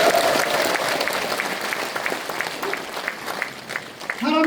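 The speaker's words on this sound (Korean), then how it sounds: "박수 한번 보내주세요" Audience applause fills a large hall at a book launch event at Jeonju University's Superstar Hall, sustained dense clapping for several seconds, with a brief voice near the end.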